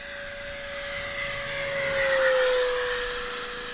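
An E-flite Habu STS radio-controlled jet with a 70mm electric ducted fan, running on a 3S battery, streaks past in a fast pass, a steady high-pitched whine that swells and shifts pitch slightly as it goes by, loud and continuous.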